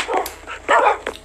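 A puppy gives several quick high yips and barks, close and fairly loud, in short bursts.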